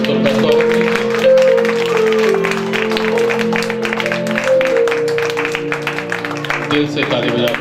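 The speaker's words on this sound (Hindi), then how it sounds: "सब मिलकर ताली बजाइए प्रभु की महिमा के लिए" A congregation claps in rhythmic unison at a Hindi-language Christian healing prayer service, steady beats running under a loud voice and sustained musical tones throughout.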